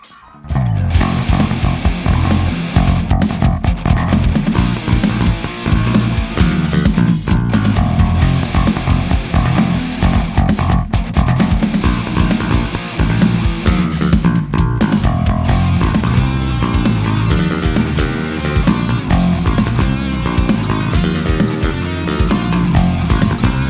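Picked electric bass notes played in a steady groove, punchy and bright on the attacks, with a full mix around it and no talking.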